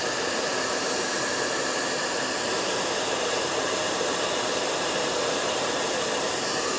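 Loud, steady roaring blast of a heat gun or hair-dryer-style heating tool warming a WWE Mattel Elite action figure, a constant broadband hiss running unbroken throughout with no talk.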